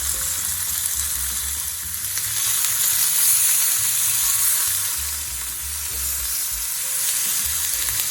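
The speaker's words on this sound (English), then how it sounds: "Heat the fry pan well. Add the finely chopped pork." Finely chopped pork fries in a well-heated, lightly oiled pan over medium heat, giving a steady, close sizzle that swells and eases over several seconds with soft stirring scrapes and no talking.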